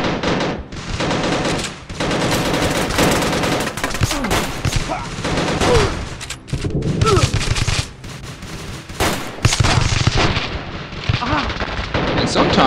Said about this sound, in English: they just shot me through the barricade again